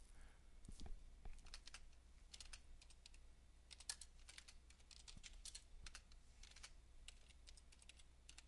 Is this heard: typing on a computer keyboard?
yes